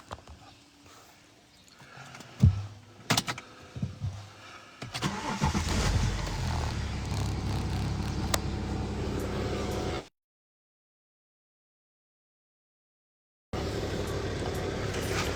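A car engine turns over and then runs at a steady, loud idle, cutting out briefly to silence before resuming.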